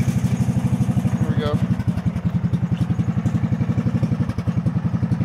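Cub Cadet 2166 garden tractor engine idling with a steady, lopey low thumping pulse, close and loud throughout, with a faint mechanical rattle on top.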